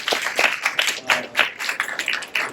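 Applause from an audience at a Star Pravah television event, a ragged run of clapping bursts with uneven rhythm, fairly close and moderately loud, lasting a few seconds with no talking.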